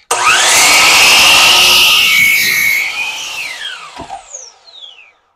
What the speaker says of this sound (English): So I just like to cut the corners off before I get it mounted.